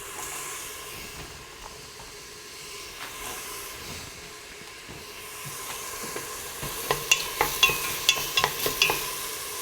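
Celery is stirred into a pot of soup over medium-high heat, with low sizzling throughout and a cluster of clinking spoon scrapes near the end.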